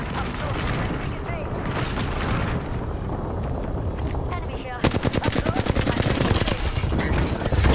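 Rapid video game gunfire rattles loudly and continuously, becoming a sharp, evenly spaced automatic burst in the second half, mixed with game effects and a voice talking.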